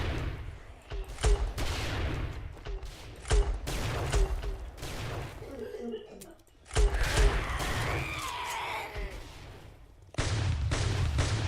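Gunfire against zombies in a modded video game, heard as repeated sharp shots in uneven bursts over a constant background rumble, with a short lull partway through.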